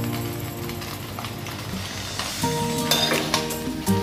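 Pre-fried chicken is stirred into fried rice in a hot pan, a steady close sizzle with scraping and clinking of the spatula against metal, quick stirring strokes and a few sharp taps.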